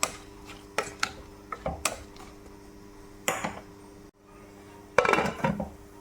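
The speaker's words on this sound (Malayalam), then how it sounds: "മൂടി വെച്ച് നമുക്കൊന്ന് വേവിക്കാം." A metal lid set onto a cooking pot of Kerala-style kootu curry, giving several sharp clinks and clatters of metal against metal in a quiet kitchen, with no one talking.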